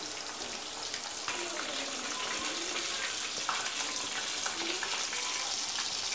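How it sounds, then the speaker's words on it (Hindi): Fish fries on a tawa griddle over high heat, giving a steady, loud, dense sizzle and hiss that runs unbroken throughout, with faint scattered crackles. "अब हमने इसको तेज़ आंच पे जो है वो पाँच मिनट तक के लिए फ्राई करना है"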